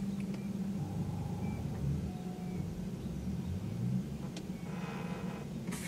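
An Audi e-tron electric car running just after being switched on: a low, steady rumble and hum with faint tonal whines, heard from inside the cabin with no talk.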